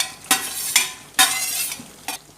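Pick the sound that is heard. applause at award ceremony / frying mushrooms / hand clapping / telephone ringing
frying mushrooms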